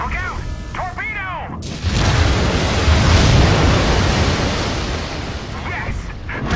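A submarine battle in Steel Ocean, with a loud, roaring torpedo explosion that swells after a short voice line and rumbles on, washing like surf, before it fades.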